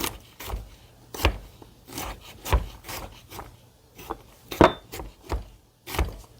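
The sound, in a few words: knife chopping fresh garlic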